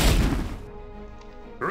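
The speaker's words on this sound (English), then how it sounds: "Let's try firing grenade shot there." A grenade shot exploding in Jagged Alliance 2 lands as one heavy crashing blast at the start, quickly fading into a quiet ringing tail, then a short new sound cuts in at the very end.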